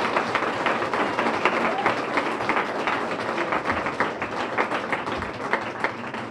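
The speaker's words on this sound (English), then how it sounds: "have a round of applause for Pat Terry and Ms. Drumgold" Scattered, fairly soft applause from a crowd at a community center dedication ceremony, individual claps standing out in an irregular patter that holds steady throughout.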